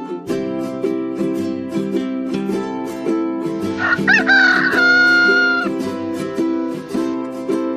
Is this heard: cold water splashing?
no